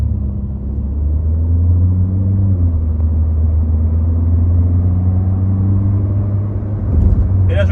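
A Seat Leon accelerates hard along a straight, heard from inside the cabin as a loud, steady engine rumble and road drone whose pitch climbs slightly as the car gathers speed.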